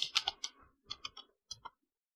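Typing on a computer keyboard to enter a repository name, a quiet close burst of about eight key clicks in two short groups, then silence.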